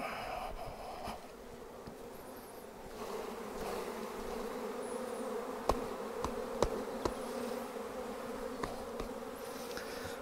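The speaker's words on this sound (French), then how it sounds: "je suis ici avec mon essaim" A honeybee swarm gives off a steady, dense buzz with no voices, holding at a moderate, even level with a few faint nearby taps.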